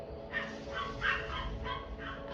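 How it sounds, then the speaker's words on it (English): Dogs bark repeatedly in the background, a run of sharp, mid-distance yips and woofs coming in uneven bursts over a steady low hum, with no talking. "Excuse the dogs."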